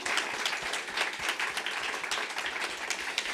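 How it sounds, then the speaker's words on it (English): An audience at a live panel session of a writers' festival breaks into steady, dense applause that fills the room evenly from start to finish, with no talking over it. "I think that deserves a round of applause."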